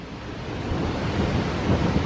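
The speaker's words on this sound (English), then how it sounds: "Here's the rain." Rain during a thunderstorm with damaging winds, a dense, roaring broadband hiss of heavy rainfall swelling slightly louder over two seconds, steady and close with a low rumble underneath and no talk.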